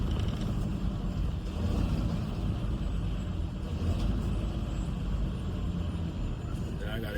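Road traffic in Chicago heard from inside a moving car: a steady, loud low rumble of engine and road noise that holds without pause, with no distinct horns or other standout events.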